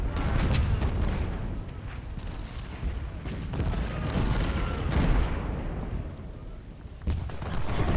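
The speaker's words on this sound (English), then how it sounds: "Our 20 pounders are hitting those supplies" Civil War 20-pounder artillery fires in a strategy video game, with repeated heavy booms rolling over a rumbling battlefield din. The blasts overlap irregularly and stay dense for the whole stretch.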